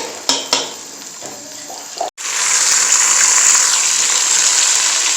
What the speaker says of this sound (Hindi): ये जो अदरक और लहसुन जो हमारा बिल्कुल फ्राई हो चुका है